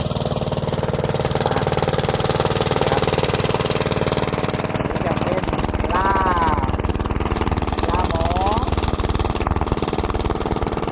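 An engine-driven water pump runs steadily and loud throughout, a constant mid-pitched drone while fish are netted at a pond, with a voice talking over it in places.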